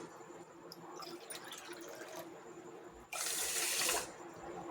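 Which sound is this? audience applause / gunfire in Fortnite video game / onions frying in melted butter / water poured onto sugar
water poured onto sugar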